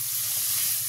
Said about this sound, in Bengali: পোস্তটা দিয়ে একটুখানি কষিয়ে নিতে হবে